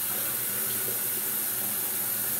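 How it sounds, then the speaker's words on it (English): Warm water runs steadily from a tap into a container, a continuous broadband hiss with no voices over it. "you'll need to fill the water up with warm water."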